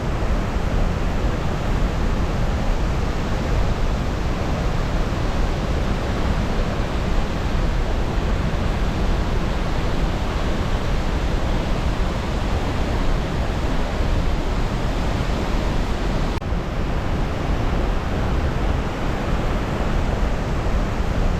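Dunhinda Falls in Sri Lanka pours down with a dense, steady roar of rushing water that fills the whole scene and never lets up. No voices are heard.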